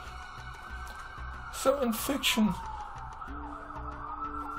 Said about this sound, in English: the ambulance is coming